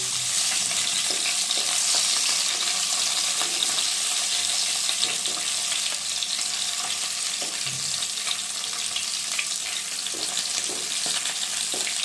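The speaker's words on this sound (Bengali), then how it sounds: "মাছটা ভাজা হচ্ছে" Loud, continuous sizzling and crackling of fish frying in hot oil, steady throughout with occasional small pops and no talking.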